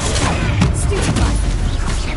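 Stupefy spell cast in Hogwarts Legacy during a fight with spiders, heard as a dense, loud magical impact burst with booming low rumble, blended with continuous game combat noise over about two seconds.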